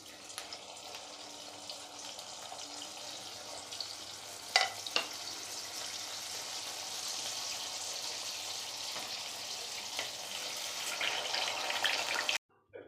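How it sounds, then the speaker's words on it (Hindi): Veg spring rolls deep-frying in hot refined oil give a steady, broad sizzle throughout, with a couple of brief clinks near the middle and an abrupt stop at the end; no one speaks. "तो हम यहाँ पे इनको एक एक करके डीप फ्राई होने के लिए डाल देंगे।"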